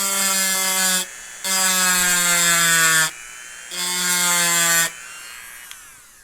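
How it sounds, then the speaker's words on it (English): A Dremel rotary tool whines in three loud, close bursts of about a second or two each, separated by short pauses, as it strips finish from a guitar's tremolo claw. "we're taking our Dremel, we're taking this same bit that we used earlier"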